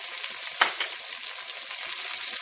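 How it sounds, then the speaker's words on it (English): A pork roast sears in a pan on medium heat, giving a steady close sizzle and hiss throughout, with one brief sharper spatter near the start and no talking. "And the meat has to get seared on both sides."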